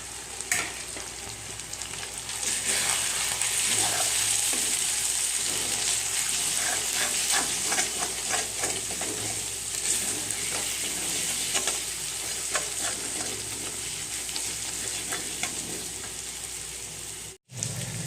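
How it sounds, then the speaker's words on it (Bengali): Ground chilli, cumin, coriander and turmeric for a chicken curry fry in hot oil, a loud continuous sizzle broken by repeated scraping strokes of a spoon in the pan, with no talking. "গুঁড়ো মশলা আমি কি কি দিচ্ছি, লঙ্কা গুঁড়ো, জিরে গুঁড়ো, ধনে গুঁড়ো আর হলদি গুঁড়ো একসাথেই দিয়ে দিচ্ছি আমি।"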